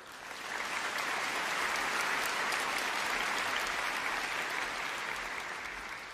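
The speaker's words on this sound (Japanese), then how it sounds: "今日の皆様ご自身にまず大きな拍手を。" A concert audience at a classical performance of anime music claps in dense, sustained applause that swells in after a brief moment and holds steady, with no talking.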